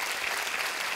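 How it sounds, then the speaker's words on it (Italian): A burst of steady clapping from a cabaret show audience in Sicily, dense and even throughout the brief moment with no talking. "a cui facciamo un applauso"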